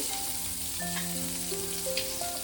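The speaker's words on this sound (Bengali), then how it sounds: "এবার আমি এই ফ্রাইং প্যানে দিয়ে দেবো একটা বড় পেঁয়াজ কুচি" Chopped onion sizzles in a frying pan after fish has been fried, a constant close hiss of hot oil with faint tonal hums underneath and no talk.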